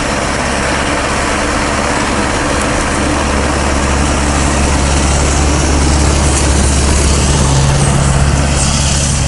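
Lada Niva with its hood removed labours loudly off-road, a steady heavy engine drone under strain as it rams through birch trees, continuous and close throughout with no talk.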